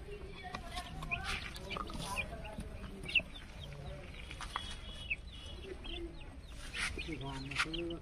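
Chickens on a poultry farm, scattered clucks and short calls rising over a constant busy background, with people talking nearby.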